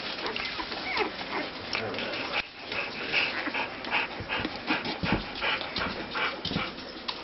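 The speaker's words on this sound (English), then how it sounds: "That pile of puppies has definitely gotten bigger." A pile of young puppies pants and whimpers softly up close, with faint restless shuffling, while people talk quietly over the sounds.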